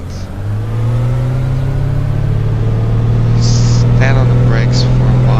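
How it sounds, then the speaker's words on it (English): A light aircraft's engine roars up to full power on the runway at Podpec airstrip in Slovenia, holding a loud, steady drone that builds slightly, with a voice speaking over it. "stand on the brakes for a while, get full power, leave them, and here we go"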